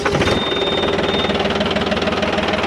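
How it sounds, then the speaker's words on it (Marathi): A Mahindra Oja 3136 36 hp tractor engine running close by, a loud steady rapid diesel chugging throughout. "आता मी तुम्हाला ट्रॅक्टरचा साऊंड एकदा ऐकून दाखवतो, कारण की साऊंड पण खूप महत्त्वाचं आहे"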